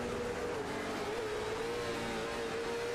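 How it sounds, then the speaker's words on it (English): A race car in a racing video game holds a high, strained engine note as it over-revs and misses a shift, the tone wavering and dipping briefly, loud and continuous. "You're going to be able to hear him over-rev this car and miss the shift."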